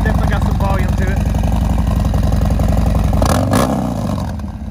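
A 2019 Harley-Davidson FXDRS with a Stage IV 131ci big bore kit and a loud 2-in-1 exhaust rumbles close by at a throaty idle, then revs up sharply before easing off.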